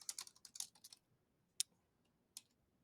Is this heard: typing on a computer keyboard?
yes